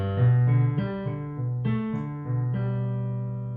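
A piano plays a shortened arpeggio pattern from a song, single notes stepping in an even rhythm and ringing into each other, clear and close with no voices.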